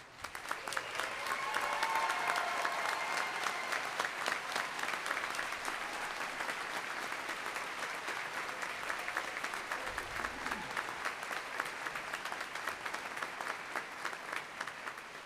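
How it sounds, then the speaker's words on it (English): Sustained applause from a large crowd at a naval postgraduate school graduation ceremony honoring international military graduates, a steady dense roar of clapping that holds evenly for the whole stretch. "that applause was completely spontaneous, truly"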